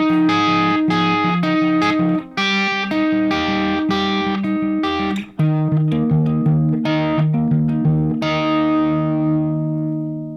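Guitar playing the outro of a song, plucked chord patterns ringing out clearly with repeated picked notes and brief pauses between phrases, played solo with no talking.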